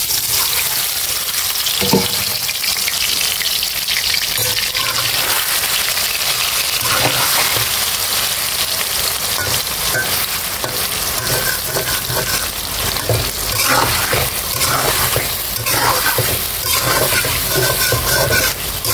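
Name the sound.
chicken frying in oil in a wok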